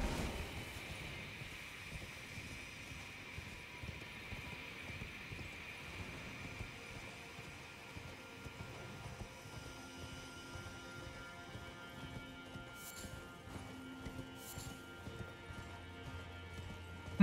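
Soft, quick hoofbeats of the horse Torrent in Elden Ring patter at a distance in a steady galloping rhythm beneath a low ambient hum, with a couple of faint whooshes near the end.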